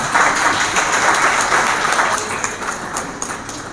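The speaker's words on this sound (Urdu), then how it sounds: "آپ ذرا ڈھنگ سے ایک دفعہ تالیاں ہی بجا دیں" A seminar audience on Islam and the West breaks into applause at the host's urging, with broad, sustained clapping from a roomful of people that fades slightly toward the end.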